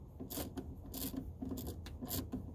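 A ratchet wrench on a 22RE engine during timing chain removal, giving repeated rasping, clicking bursts in an uneven rhythm, close and fairly loud.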